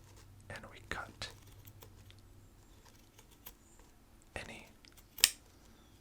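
Scissors snipping blades of grass in a role-play set around a castle garden, with a few sharp, close cuts scattered between soft whispered speech.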